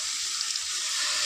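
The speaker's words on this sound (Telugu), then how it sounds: "కొంచెం వాటర్ వేద్దాం." Water from a bowl pours into a pan of simmering curry, a brief, fairly loud rushing splash mixed with a bright hissing sizzle.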